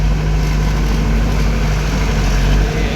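Steady low, heavy diesel engine rumble from a Normet tunnelling machine drones throughout, loud and continuous, with a constant mechanical hum and no voices.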